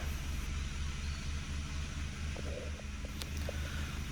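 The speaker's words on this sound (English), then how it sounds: "start the car and let it to be idle for a while." A Honda Fit Shuttle with a low fuel mileage complaint idles after starting, a steady low engine hum with a regular rumble, faint clicks over it.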